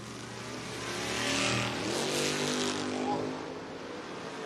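A drag race car roars past at a Door Wars drag race event, the engine swelling loud mid-clip with rising harmonics before fading, steady crowd-level track ambience throughout.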